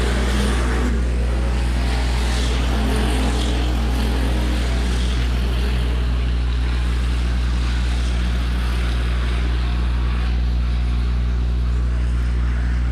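Micro sprint race cars roar around Rock County Speedway in a dense, continuous engine drone, several cars bunched together on the dirt oval, loud and steady throughout with no talk.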